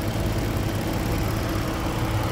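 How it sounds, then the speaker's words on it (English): A 2014 Ford Mustang's V6 engine idles smoothly under the open hood, a steady low rumble heard up close, even and unbroken throughout with no voices. "That's the V6 engine."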